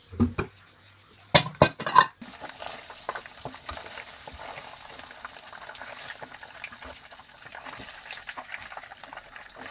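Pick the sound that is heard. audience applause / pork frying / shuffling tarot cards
pork frying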